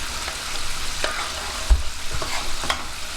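Shrimp simmering in a creamy sauce in a pan, a low bubbling sizzle with occasional utensil scrapes and one dull knock, close and steady.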